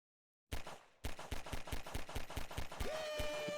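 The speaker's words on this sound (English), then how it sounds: "it's a huge explosion" Rapid burst of loud explosive blasts in Garry's Mod, a stuttering rhythm of sharp booms following a brief silence, settling into a sustained roar with a rising tone near the end.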